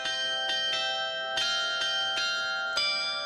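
Computerized, automated church bells ring in overlapping strikes, about six clangs with long shimmering tones that blend into one another, loud and close.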